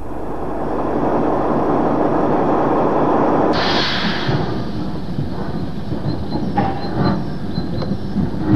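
Steam locomotive Mercury at Birmingham New Street station, a loud sustained rumble and hiss that drops off partway, followed by rhythmic clanking of wagons and rail noise.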